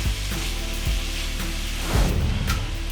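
South African chakalaka vegetables sizzle steadily in a pot over low heat while being stirred, a continuous close frying hiss with soft scraping, swelling briefly louder near the end.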